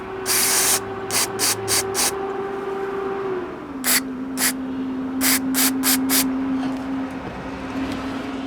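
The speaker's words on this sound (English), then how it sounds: "let's go ahead and clean that off with some of the appropriate mass airflow sensor cleaner" Mass airflow sensor cleaner sprayed from an aerosol can onto a MAF sensor from a Pontiac Vibe, heard as a series of short hissing bursts, several quick ones, then longer blasts, over a steady engine-bay hum.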